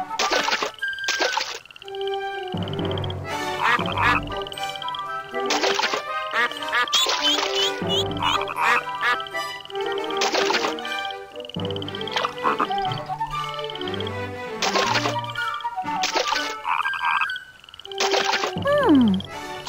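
Cartoon frogs in the Barbie Riding Club horse video game croaking and quacking in bursts, mixed with hop and splash effects and bright synthesized game sounds across a lively, busy stretch.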